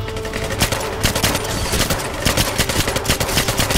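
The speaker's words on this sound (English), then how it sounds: "Oh, stop shooting! This sound is getting annoying" Rapid automatic gunfire from James Bond 007 Legends, loud and continuous, with dense bursts of machine-gun shots rattling throughout and no voices.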